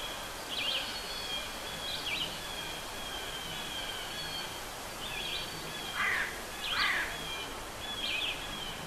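Bird calls played back as ambience in a game level, several short chirps and warbles spread out over the clip, moderately faint against a steady background hiss, with no talking.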